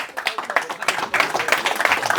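Audience at a free stand-up comedy show clapping steadily throughout, a dense patter of many hands that swells slightly in the second half, with faint crowd voices mixed in.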